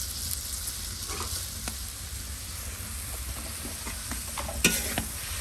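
Food with chili fries in a pan, giving a continuous close sizzle with scattered stirring scrapes and clinks, including one sharper knock near the end, and no voices.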